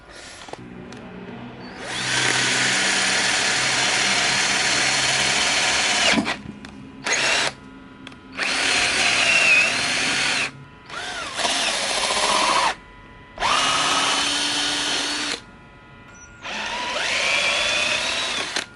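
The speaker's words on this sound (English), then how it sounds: "So engine's drilled out." A power drill whines in several long bursts, loud and close, with brief pauses between runs as it bores out bolt holes in a pit bike engine's metal.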